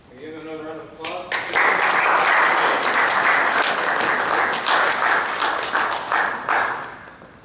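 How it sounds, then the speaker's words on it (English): Loud, dense audience applause at a Boy Scout Court of Honor ceremony, swelling in after a brief spoken moment and holding strong for several seconds before tapering near the end. "Give another round of applause."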